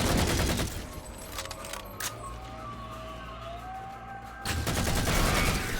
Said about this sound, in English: I can just summon an auto turret at will if I want to